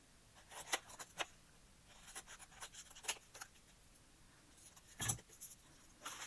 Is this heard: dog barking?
no